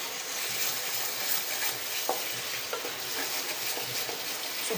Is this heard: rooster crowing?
no